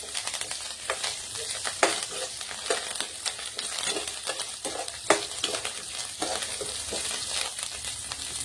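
Ivy gourd pieces fry in a pan for a pounded chutney, giving a steady close sizzle with scattered crackles and a few sharper pops and stirring scrapes throughout.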